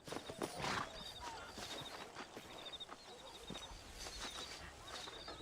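Horse hooves clip-clopping in Red Dead Redemption as a horse is walked up to a hitching post, a steady soft plodding under ambient game sounds with faint bird calls.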